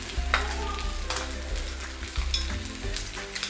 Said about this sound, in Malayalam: 2 മിനിറ്റ് ഒന്ന് ഹൈ ഫ്ലെയിമിൽ തന്നെ ആക്കിയിട്ട് ഒന്ന് ജസ്റ്റ് ഫ്രൈ ചെയ്തെടുക്കുകയാണ്